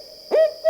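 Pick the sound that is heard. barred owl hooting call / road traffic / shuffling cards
barred owl hooting call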